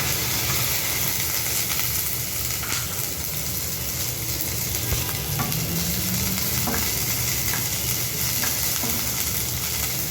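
Okra fries in hot oil, giving a steady, close sizzle that runs unbroken throughout with no talking.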